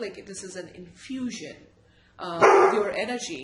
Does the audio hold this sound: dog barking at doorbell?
yes